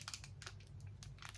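Crinkly plastic wrapper on a gift being handled up close, soft bursts of crackling and rustling in short irregular clusters over a low steady hum, with no talking.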